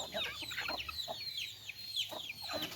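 A backyard rooster among a flock of young chickens clucks in a string of short, close calls that rise and fall, with a steady outdoor murmur underneath.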